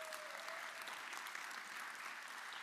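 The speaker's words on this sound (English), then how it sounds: "Give them a big round of applause" An audience at a travel creator panel applauds the sponsors with a continuous, even round of clapping that is faint and distant, holding steady for a couple of seconds.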